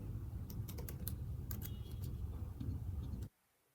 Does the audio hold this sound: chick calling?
no